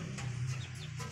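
A chicken gives a short, soft clucking call in a backyard coop with ducks and eggs, brief and fairly quiet with no talk over it.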